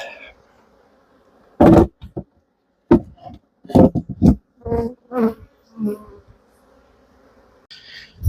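Honeybees around an open beehive during an inspection, their buzzing coming in several short close bursts between quiet gaps, with brief handling noises and a little voice in the background.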